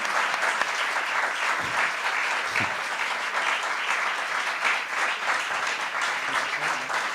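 Sustained audience applause at a book presentation, a dense, steady roar of many hands clapping throughout, close and loud.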